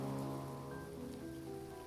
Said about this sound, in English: The sound of rain and boats in the dock.